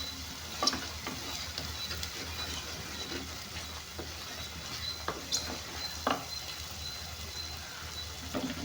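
Food frying in a pan while being stirred, a continuous sizzle with scraping spoon strokes and occasional sharper ticks and pops, close by, with no talking.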